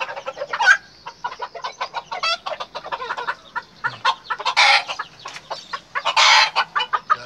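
Red rooster crowing with jungle fowl and Brugo chickens, a busy mix of clucks and repeated crows, some loud and near, others overlapping, with no talk.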